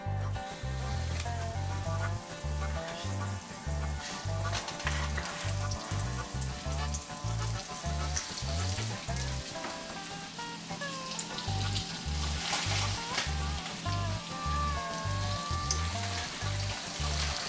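Calf liver fries in a crowded hot pan with a steady, loud sizzle that crackles throughout, broken by rhythmic low thumps and occasional stirring noises, with no talking.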